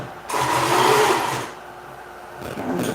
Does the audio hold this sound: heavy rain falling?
no